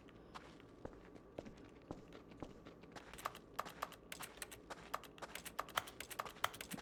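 Keyboard typing in the video game The Stanley Parable comes as quick, fairly faint clicks in an irregular run that grows busier toward the end over a low background.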